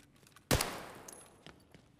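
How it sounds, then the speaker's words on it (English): A sudden loud burst of enemy gunfire in Escape From Tarkov, a sharp rapid volley followed by a decaying echo and a few fainter scattered shots, with no talk over it. "dude, he started shooting me."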